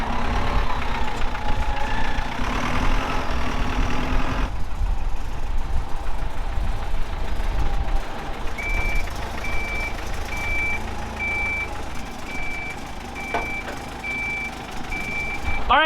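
An old pickup truck idles and rumbles while lifting pallets, then a steady series of high reversing beeps repeats at even intervals over the lower engine drone.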